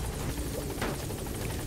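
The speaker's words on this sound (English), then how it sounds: "I'm gonna take the nice and comfy helicopter." A helicopter from Metal Gear Solid V: The Phantom Pain drones close and loud with a constant rotor thrum. The sound holds steady throughout, with no voices over it.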